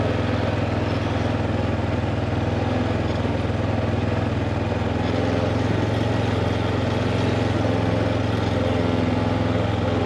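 A four-wheeler ATV engine hauling gravel on a steep mountain road runs continuously at close range, a steady, droning low mechanical rumble with no pauses or talk.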